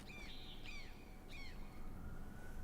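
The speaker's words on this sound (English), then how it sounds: "I hear birds." In the Halo Infinite video game, a bird gives three harsh, crow-like calls in quick succession, each with a falling pitch, over a steady outdoor ambient hum before the scene settles.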